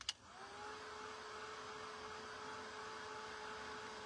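A hair dryer blows on a freshly painted thrifted clock, starting with a click and then holding a steady, fairly quiet whirring hum with a constant tone.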